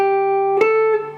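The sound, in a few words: guitar playing first phrase of a melody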